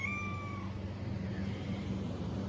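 A cat meows a few times at a playground, the short whining calls clustered in the first moments over a steady low background hum, with no other voices.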